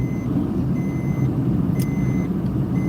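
A faint, steady truck reversing beep repeats at regular intervals over a loud low rumble of a nearby idling heavy vehicle in Sosua, Dominican Republic.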